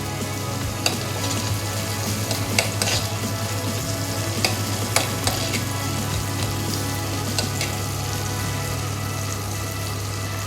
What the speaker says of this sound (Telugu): బటర్లో అల్లం వెల్లుల్లి కొంచెం ఫ్రై అయిన తర్వాత